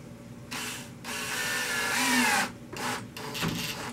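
A screw being driven into a wooden bowl blank with a power drill, several whirring bursts of rising pitch separated by short pauses, loud and close, with no talk.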